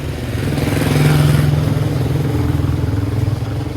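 A Honda XL 200 motorcycle engine idles close by with a steady, loud, throbbing single-cylinder beat and a light mechanical clatter. The revs rise gently near the start and then settle back into an even idle.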